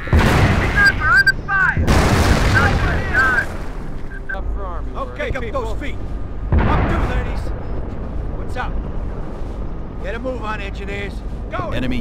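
Gunfire and artillery in the World War II strategy game Company of Heroes, heavy booming blasts and bursts of shooting in rapid clusters, loud and dense, with soldier voices calling out over the battle.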